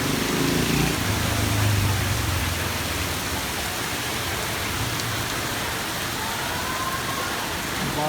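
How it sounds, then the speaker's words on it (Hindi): Heavy morning rain pours down steadily as a dense, loud, continuous hiss with no pauses and no talking. "बहुत ही कमाल की सुबह सुबह बारिश ज़ोरों से शुरू हो गई।"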